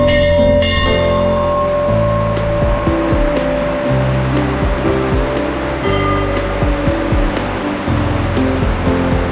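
A large temple bell at the entrance of Shri Devi Mandir in Panipat rings repeatedly in steady, loud strikes, its resonant tones overlapping amid dense surrounding noise of a busy temple.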